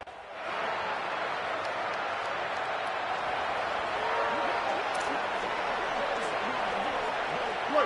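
Stadium crowd cheering in an NCAA college football video game, an Illinois Illini home game, a steady dense roar that holds level and fills the whole stretch, with no talk over it.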